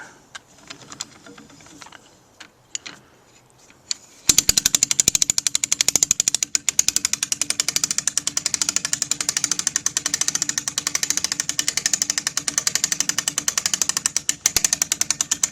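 A winch draws back a GrizzlyStik Qarbon Nano longbow, starting after a few soft clicks into a loud, rapid, steady ratcheting clatter that runs close and unbroken to the end.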